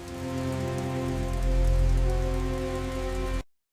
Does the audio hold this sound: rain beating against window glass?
yes